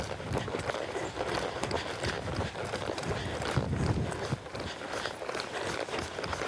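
Horse hooves hitting arena ground at a canter in a steady, close rhythm, with a mare being ridden and schooled; the beat carries on without pause.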